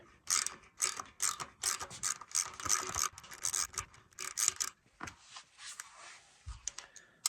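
Front table gib on a machine being tightened against 1 thou shim stock, giving a run of close, dry ratcheting clicks and metallic scraping in quick bursts that thin out toward the end, with no talking.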